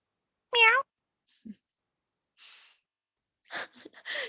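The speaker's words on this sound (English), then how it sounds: "A gray kitten." A gray kitten gives one short, high meow, followed by faint breathy snorts and small sounds with long silent gaps between them.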